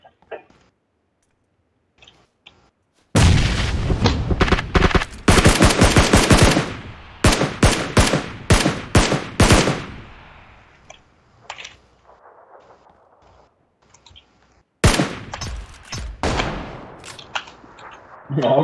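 Bursts of automatic gunfire in the video game PUBG Lite, rapid repeated shots in two main clusters separated by quieter stretches, loud and close, with occasional single cracks.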